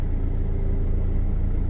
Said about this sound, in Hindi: तो ये गाड़ी बिल्कुल धीरे धीरे आगे बढ़ रही है।